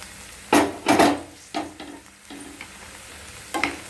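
Okra and spring onions fry in a pan that has been covered. A spoon scrapes and stirs in several distinct strokes over a low, steady sizzle, close and moderately loud, with no voices.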